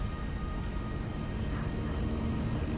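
Seaplane engines throttle up for takeoff, a steady, loud, broadband roar with a constant drone held throughout and no voices.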